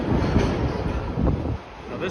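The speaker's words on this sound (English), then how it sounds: "So this train right here is on the W line." A New York City subway train on the W line rumbles loudly nearby, with a low roaring hum and wind buffeting that eases toward the end.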